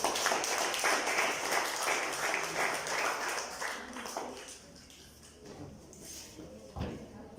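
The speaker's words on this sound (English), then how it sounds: "A round of applause." A club meeting audience applauds in a dense, loud patter of clapping that fades out after a few seconds, leaving quieter room sounds and a single thump.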